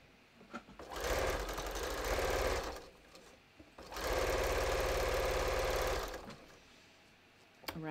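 A sewing machine stitches a bathrobe across the center back in two long, steady bursts of loud rhythmic whirring, separated by a short pause with a few light clicks.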